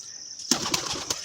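A pigeon flaps its wings in a short burst of papery beats, close and fairly faint, following a soft high tone.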